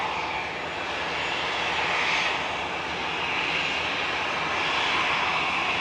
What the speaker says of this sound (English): Looks like A380 is getting straight in behind the Aer Lingus Regional